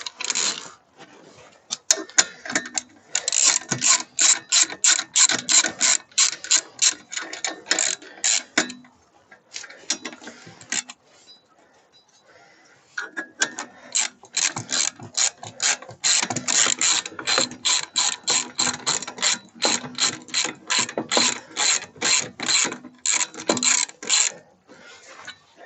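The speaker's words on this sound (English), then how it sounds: "You can use this ratchet." A hand ratchet tightening wheel bolts during a car brake disc change, long runs of rapid, crisp clicking in repeated bursts with short pauses between, close and loud.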